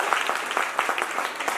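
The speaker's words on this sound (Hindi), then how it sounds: "हाँ चलो तालियां जोरदार भाई।" Enthusiastic audience applause at a business training event in Meerut, a dense steady patter of clapping hands with individual claps popping out throughout.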